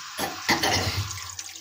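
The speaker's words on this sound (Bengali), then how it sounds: "করবো সামান্য পরিমাণ জল," A splash of water is poured into chicken and cauliflower curry in a pan, a brief close gush followed by bubbling and hissing as it hits the hot food.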